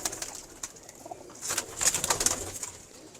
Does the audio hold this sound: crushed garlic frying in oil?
no